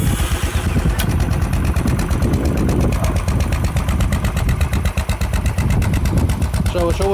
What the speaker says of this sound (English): it idles, it has this typical put sound of a Royal Enfield